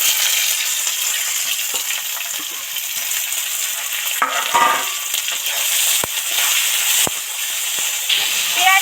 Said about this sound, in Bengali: এবার টমেটো আর পেঁয়াজ কুচিটা তেলের মধ্যে উঠিয়ে দিচ্ছি